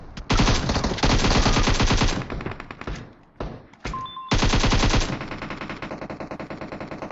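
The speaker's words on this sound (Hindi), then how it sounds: "गोलियों की आवाज़ से आपको इतना तो पता चल चुका होगा" Automatic rifle fire in the battle royale game PUBG at a military base, long loud rapid bursts with a brief pause midway, then another burst fading into echoing tail shots.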